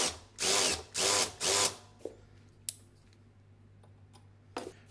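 Three short bursts from a power drill cutting a shallow notch into an AR15 gas block, close and loud, each a second or less with pauses between, followed by a few small clicks and taps of handling.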